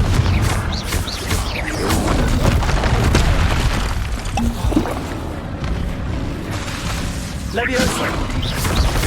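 The Confringo blasting spell in Hogwarts Legacy erupts in booming explosions with crashing debris, several heavy blasts in a row over rumbling game noise, with a voice speaking among them.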